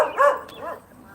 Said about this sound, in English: Leave that dog alone.